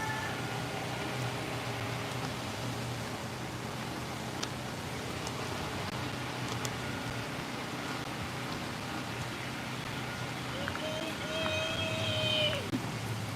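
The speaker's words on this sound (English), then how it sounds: "this is our waterfall that they always have here" A small natural waterfall among coconut palms makes a steady, soft rushing hiss throughout, with a brief tonal call rising near the end.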